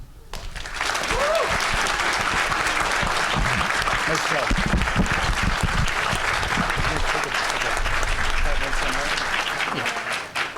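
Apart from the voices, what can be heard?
audience applause at board meeting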